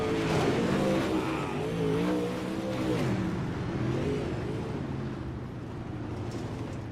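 UMP modified dirt race cars roar around an indoor track, a dense continuous engine drone with rising and falling revs from several cars at once, loud and steady throughout.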